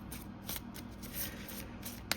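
Wild Unknown Animal Spirit oracle cards handled up close: soft repeated riffling and sliding swipes in short bursts, ending with a crisp snap, quiet and without speech.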